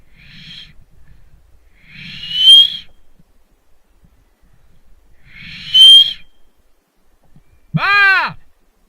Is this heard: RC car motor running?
no